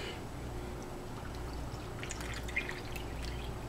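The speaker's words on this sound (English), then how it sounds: "add an additional cup of water to both of these cups of sourdough" Filtered water pours into two cups of sourdough starter, a faint, steady trickle with soft splashy flickers, alone and quiet throughout.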